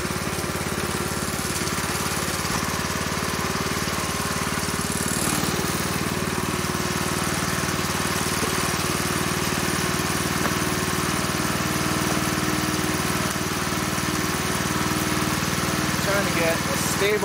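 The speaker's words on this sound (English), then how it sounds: "Got the log splitter warming up." A gas-powered log splitter engine idles steadily on a homestead while warming up, a loud continuous mechanical drone with no change in pace throughout.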